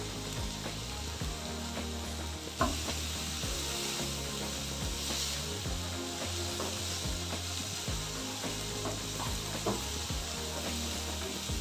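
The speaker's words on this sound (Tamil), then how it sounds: "என்றைக்குமே இந்த வெங்காயம் வதக்கும் போது கொஞ்சம் சால்ட் ஆட் பண்ணிட்டீங்கன்னா வெங்காயம் சீக்கிரமாக வதங்கிடும்" Onions sautéing with salt in a pan for a cabbage and bottle gourd gravy, an even sizzle under frequent scraping strokes of a spoon, close and steady with no speech.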